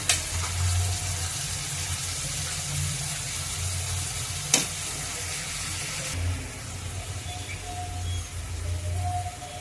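Boiled broad bean pieces hit a hot pan for a coconut milk curry, giving a steady sizzle with soft stirring and scraping throughout and a brief sharp clink partway through.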